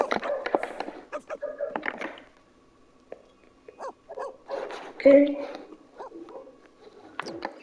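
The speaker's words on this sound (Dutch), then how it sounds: "Wat is er met deze hond?" A dog in The Sims 4 video game barks and whines in short, mid-level bursts mixed with other game sounds, while a person talks briefly over it.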